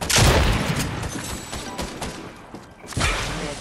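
Video game SMG fire during a PlayStation 5 squad match: a dense, loud burst of rapid shots up front, a thinner stretch, then a second heavy burst near the end, with no talk.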